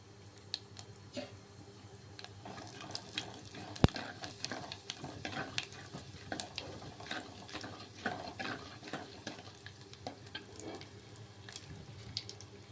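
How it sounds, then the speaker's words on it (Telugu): Quiet, steady crackle and sizzle of mustard seeds, chana dal, urad dal and cumin tempering in hot oil, with scattered sharp pops and one loud click, no talking. "ఆయిల్ ఎక్కిందండి దాంట్లో ఆవాలు శనగపప్పు మినపప్పు జీలకర్ర అనమాట పోపు దినుసులు ఇవి"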